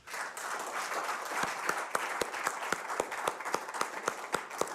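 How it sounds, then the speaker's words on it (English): Audience at a learning-session event claps after a speaker's testimony, steady moderately distant applause with sharper individual claps standing out, no talking. "Let's give another applause."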